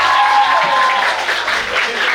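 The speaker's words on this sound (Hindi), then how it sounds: "जोरदार तालियां" Loud audience applause fills a certificate distribution ceremony at a vocational excellence center, a dense, steady wash of clapping that holds from start to finish with a faint voice underneath.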